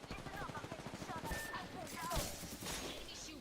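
Bursts of gunfire in the Apex Legends video game crackle in quick clusters, with sharp cracks ringing out under continuous close-up talking from a player.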